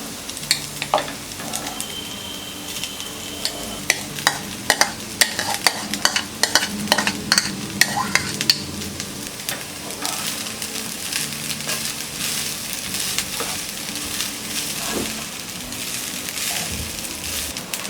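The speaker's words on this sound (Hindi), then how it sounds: "गाजर को हमने 2 मिनट तक फ्राई कर लिया है। अब हम इसमें डालेंगे ये कुक्ड राइस।" Cooked rice is tipped into a pan of carrots that have fried for two minutes and stirred, giving a low steady sizzle broken by repeated scraping and clattering strokes of a spoon against the pan.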